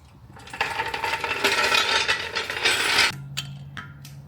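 A hand ratchet tightens the lug nuts on an RV tire, making a fast run of close metallic clicks that builds for a few seconds, then stops, leaving a faint hum and a couple of light knocks.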